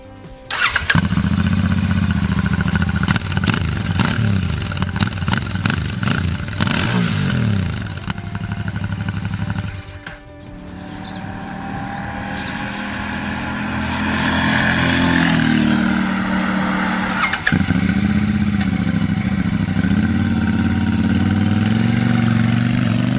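A Royal Enfield Shotgun 650 motorcycle engine revs hard and loud, drops briefly, then settles into a steady, throaty running drone close by.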